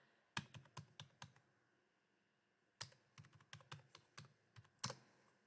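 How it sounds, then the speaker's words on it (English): Bursts of computer keyboard typing as a library card number is entered, two clusters of quick, close key clicks separated by a brief pause, with no talking. "all you have to do is enter in your library card number"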